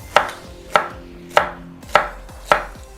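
Knife chopping white okra on a cutting board, five sharp, evenly spaced chops about half a second apart, close and clear with no talking.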